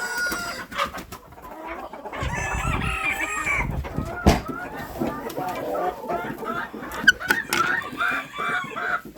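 Chickens and a rooster being let out of their coop in a farmyard, with busy overlapping clucking and a crow, close and continuous, while someone talks quietly nearby.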